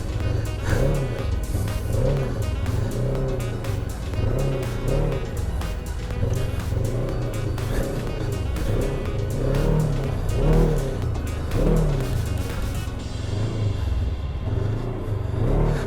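A Polaris RZR side-by-side engine drives uphill, a steady loud motor rumble with rising and falling revs throughout, close and continuous with no talking.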